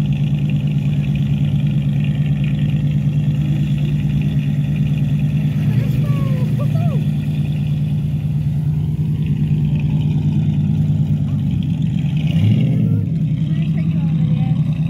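A classic car engine idles steadily with a low rumble at an outdoor car show, rising briefly in a couple of short revs, while voices talk over it.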